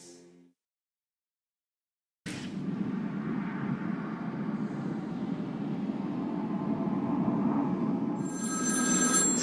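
A payphone rings in Batman: Arkham City as Zsasz calls, the bell sounding steadily for several seconds over a constant low ambient hum after a brief silence.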